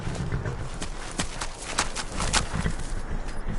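Horse hooves clip-clop at a walk in a video game set in the Reach, a light irregular patter of hoofbeats heard up close, alone and fairly quiet.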